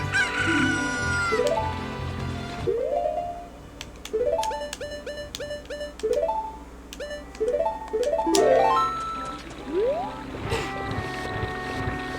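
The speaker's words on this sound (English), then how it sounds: "And now, I have a pocket chicken." In Legend of Zelda: Ocarina of Time, a chicken crows loudly and then clucks in short repeated bursts over the game's background music and ambient sound.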